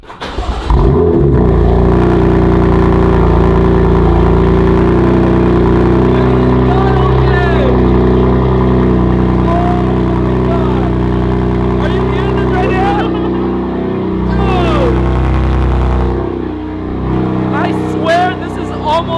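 A BMW M3 with a loud aftermarket exhaust idles and revs with a deep, throaty exhaust rumble, close and sustained, with brief pops and crackles near the end.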